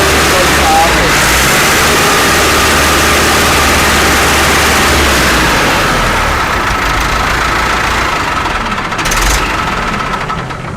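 An ATS tractor engine runs right after starting, a loud, close, steady knocking diesel clatter that holds throughout with a slight swell near the end.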